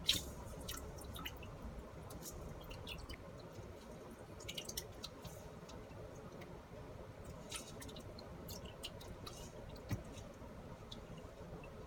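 Fresh anchovies are rubbed and rinsed by hand in salted water, giving soft, quiet splashes, squishes and drips that come steadily, close up, with no talking.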